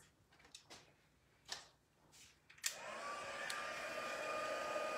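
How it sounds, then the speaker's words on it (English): Heat embossing tool switched on after a few soft clicks and handling taps, then blowing hot air in a steady whirring hiss with a faint tonal whine, close and fairly quiet. "let's go ahead and heat emboss"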